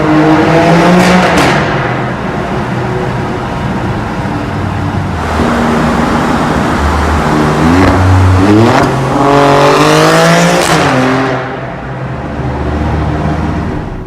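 A V6 SUV engine revving hard, with rising and falling pitch, loud close exhaust roar and brief popping crackles and backfires between throttle blips, no voices.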